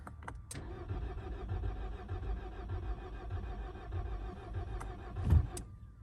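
A car engine cranks and catches, a steady churning of the starter and engine turning over for several seconds after a few sharp clicks, close and moderately loud, with no talking.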